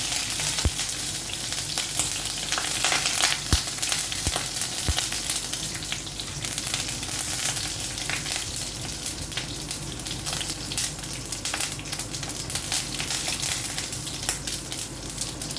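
Yellow lentils, gram dal, curry leaves and green chilies fry in hot oil with a continuous close sizzle, punctuated by occasional scrapes and clinks of stirring.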